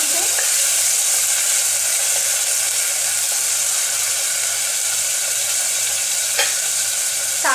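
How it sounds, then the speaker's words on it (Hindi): Tomatoes frying with onions in a pan for Indian-style masala macaroni: loud, steady sizzling and crackling close by, with occasional stirring scrapes and no talk. "अब हम इसमें डाल देंगे टमाटर, दो टमाटर काटे थे हमने, दो मीडियम साइज टमाटर काट के इसमें डाल देंगे"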